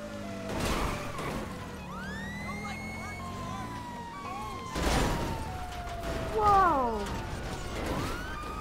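Police car sirens in Grand Theft Auto V wail and rise and fall in pitch over steady engine and traffic noise, with bursts of game sound effects and a person talking throughout.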